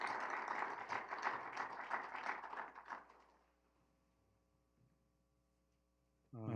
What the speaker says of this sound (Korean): 우리 모두를 위해서 다시 한번 박수해 주시면 고맙겠습니다